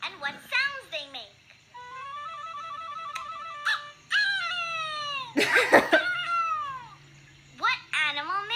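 Cartoon cat meowing several times in a children's animal-sounds game, clear harmonic mews alternating with short bursts of a voice and other animated sounds.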